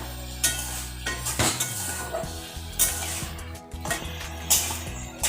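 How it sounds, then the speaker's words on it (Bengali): Jackfruit curry being sautéed in a pot with a splash of hot water, loud metal spoon scrapes and clanks against the pot over a bubbling sizzle, close by, in repeated stirring strokes. "আরও একটু জল দিলাম এবং ভালো করে কষিয়ে নিচ্ছি"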